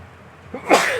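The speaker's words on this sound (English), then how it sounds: "I'm gonna sneeze." A single human sneeze bursts out near the microphone, a short sharp breathy blast preceded by a faint intake, with no talking around it.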